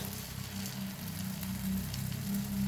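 Lumpiang shanghai frying in a pan of oil, a steady close sizzle with a soft crackle that runs unbroken throughout.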